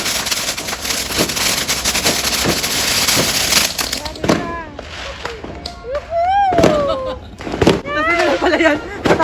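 New Year firecrackers go off nearby, a rapid run of sharp popping bursts followed by scattered cracks, with people talking and calling out over and between the blasts.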